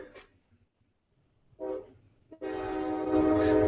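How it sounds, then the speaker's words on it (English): A passing train blows a long, loud, sustained horn that swells and holds steady to the end, preceded by a few brief, quieter bursts of rumble and noise. "Oh, there goes the train."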